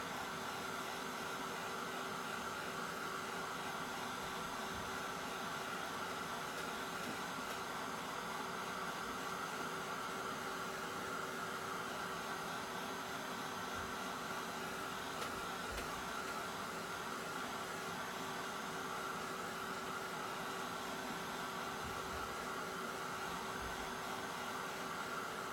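A hair dryer runs steadily at moderate distance, drying paint on a mixed media art journal page, its continuous airy whoosh with a faint motor hum holding level throughout, with no talking.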